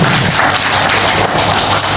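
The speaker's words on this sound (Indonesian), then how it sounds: "Tepuk tangan buat kita semua." Audience applause at a school education seminar, a dense continuous wash of clapping filling the room at steady loudness throughout.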